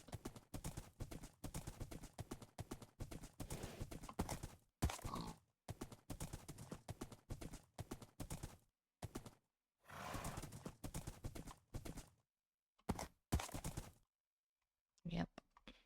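A horse ridden in the video game Minecraft clip-clops its hooves in irregular bursts, separated by short silent gaps and ending in a brief quieter patch.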